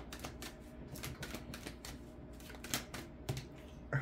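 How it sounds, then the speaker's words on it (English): Tarot cards being shuffled in repeated quick riffles and slaps, a steady papery flutter with sharp taps, close and fairly quiet with no talking. "Because two cards came out in the last shuffle."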